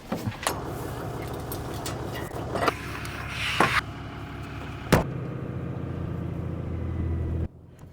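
A vehicle on all-terrain tires drives up a wet grassy hill, its engine droning steadily with rattling and a few sharp knocks and thumps, before the sound cuts off near the end.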